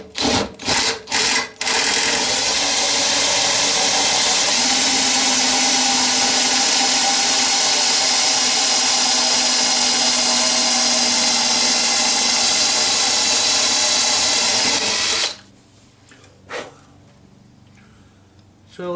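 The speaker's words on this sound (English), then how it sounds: "I'm just going to drill a hole in here. Oops, it's aluminium, so it is going to catch." A power drill bores into aluminium in a loud, continuous whine after a few short starts, running steadily for about fifteen seconds before stopping abruptly, leaving quiet handling noises.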